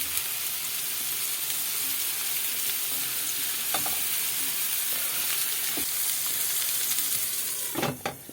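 Hamburger patties topped with cheese sizzle in a pan, a dense continuous hiss and crackle close by, with a few short scraping or tapping sounds near the middle and a louder clatter at the end; no talk.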